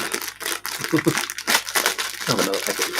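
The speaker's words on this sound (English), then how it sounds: "Sorry for the rustling." A plastic product packet is torn open and crinkled close to the microphone, with crackling rustles running through the whole moment alongside someone speaking.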